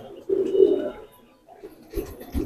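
Tonk breed pigeons cooing close by, one low throaty coo followed by a pause and then a second shorter burst of cooing.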